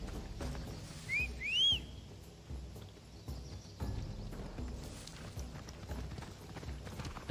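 A horse's hooves clip-clop in Assassin's Creed Odyssey, with a short two-note whistle near the start, then a steady trotting beat of moderate loudness that carries on to the end.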